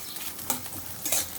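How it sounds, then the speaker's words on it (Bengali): Onions sizzle in hot oil in a pan, a soft steady frying hiss punctuated by a couple of scraping stirs, close and fairly quiet. "পেঁয়াজ লালচে লালচে ভাজা হয়ে এসছে।"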